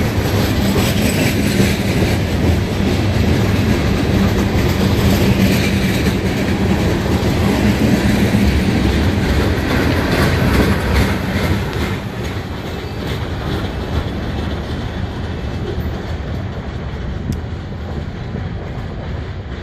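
CSX freight train cars, including tankers and trash cars, rolling past a grade crossing in Connersville, Indiana, with steady loud wheel rumble and rhythmic clickety-clack, slowing slightly and easing off as the end of the train nears.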